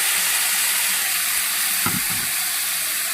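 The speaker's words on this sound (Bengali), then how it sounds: "এবার ঢাকা দিয়ে বেশ কিছুক্ষণ আমি ভাজতে থাকব" Pabda fish frying in a pan with pointed gourd and green chillies gives a steady, close sizzle and hiss, with a brief stirring clatter partway through.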